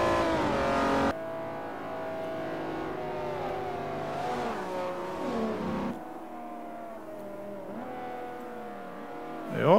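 Ferrari 250 GTO racing on the Nürburgring Nordschleife in Forza 4, its engine loud and close, revs climbing and dropping through repeated gear changes, with a sharp surge at the very end.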